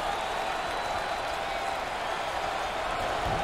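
Dense, steady roar of a basketball arena crowd at an NIT Round of 16 game between Washington and Colorado, cheering and applauding continuously throughout with no breaks.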